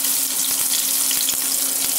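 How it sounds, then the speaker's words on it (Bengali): Chicken pieces deep-fry in hot oil for a crispy chicken fry, giving a constant close sizzle with small bubbling crackles and pops and no talking. "এভাবে করে অনেকগুলো একত্রে ভাজা যায়"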